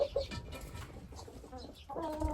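Chickens, including Ameraucanas, cluck and murmur close by, with short rooster-like calls breaking through the quiet farmyard background.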